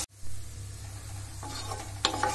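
Sliced onions frying toward golden brown for biryani, a continuous even sizzle with occasional spatula stirs and a clink of utensil near the end, close and alone.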